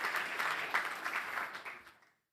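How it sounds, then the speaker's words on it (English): Audience applause at an aviation congress keynote, a dense patter of clapping that holds steady and then tapers off to silence within about two seconds. "A round of applause for our Honeywell friends."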